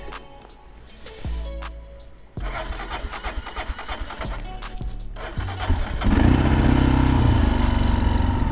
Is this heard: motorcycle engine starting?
yes